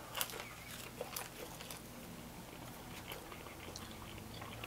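Someone bites into and chews a crunchy chicken flatbread with chipotle sauce from Panera, giving a few crisp crunches up close and then softer steady chewing, with no talking.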